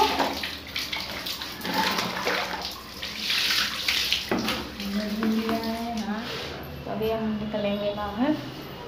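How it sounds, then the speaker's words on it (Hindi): Water runs steadily from a tap while clothes soak, a continuous splashing hiss under a voice and other people talking. "तो अभी तो मैं यहाँ पे कपड़े भिगा रही हूँ ना"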